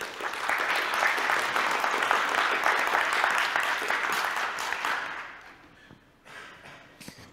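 An audience applauds after a talk, loud sustained clapping that fades away, with a few scattered claps left at the end.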